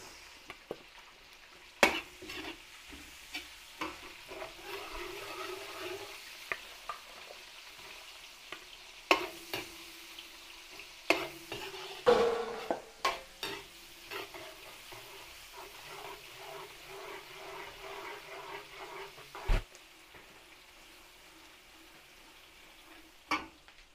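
Onions being stir-fried in a pan, a soft continuous sizzle broken by sharp scrapes and clacks of a utensil stirring against the pan, close and fairly quiet.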